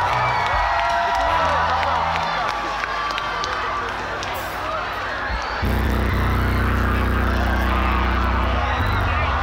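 A crowd at a live concert applauds and cheers loudly, with whoops and shouts throughout and a swell of noise partway through; no talk rises above it.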